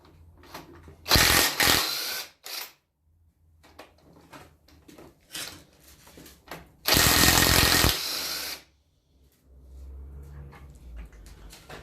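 Hand tools clank and rattle on an oily Land Rover Series engine during crankshaft removal, with two loud, dense bursts of metallic noise separated by quieter scraping and tapping.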